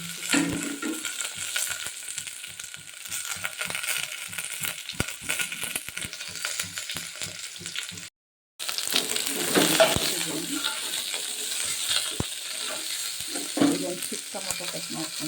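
Onion, garlic and curry leaves fry in hot oil for rasam or sambar, a continuous crackling sizzle with scattered sharp pops and stirring, broken by a brief silent gap.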